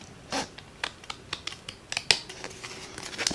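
Scissors snip through scraps of adhesive-backed cardstock in a string of quick, crisp, close cuts, separated by short pauses against a quiet background.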